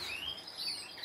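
Small birds in an aviary give thin, high chirps and short sweeping tweets, faint and somewhat distant, over a quiet background, with no one talking.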